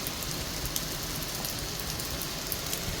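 Heavy rain falls hard and continuously, a thick, even wash of drops striking surfaces with occasional sharper spatters and no voices.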